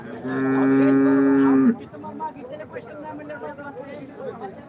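A cow gives one long, loud, close moo at a busy cattle market in Sangola, and a low hubbub of chatter and crowd noise carries on beneath and after it.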